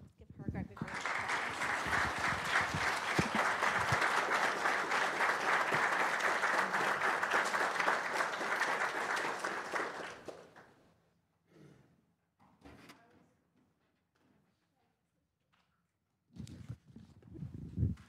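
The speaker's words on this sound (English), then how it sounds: "Give her a great big round of applause." Sustained, loud applause from a crowd at a county board meeting fills about ten seconds, then fades into a quiet room with a few scattered knocks and rustles.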